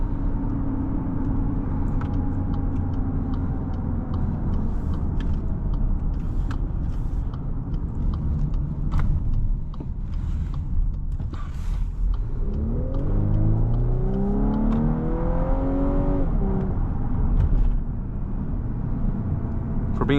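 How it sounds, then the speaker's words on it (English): A 2024 Volkswagen Atlas Peak Edition SEL's turbocharged four-cylinder engine accelerates steadily from inside the cabin, with a rising whir and a second pull building after a gear change, alone without talk. "For being a turbo 4, the engine sounds decent as well."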